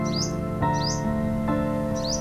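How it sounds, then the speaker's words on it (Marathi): Outdoors near a hilltop temple at Sajjangad, Satara, a bird lets out three short chirps at a regular pace over a steady tonal hum in the background. "आकाशाचा निळा गालिचा आणि पक्ष्यांचा किलबिलाट मनाला स्पर्शून जातो।"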